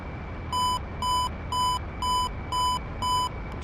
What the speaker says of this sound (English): I have to mind my radar altimeter,